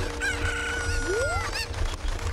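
A chicken in The Legend of Zelda: Ocarina of Time lets out a sharp, rising squawk, one loud call over low game background noise.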